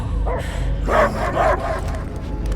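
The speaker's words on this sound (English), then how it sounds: "I hear only barking." Cosmo, a dog in a video game, gives several close, loud barks and yips over a steady low background hum.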